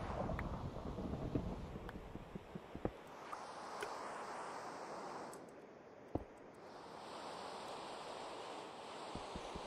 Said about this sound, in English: I'm gonna have to wait out the storm up here.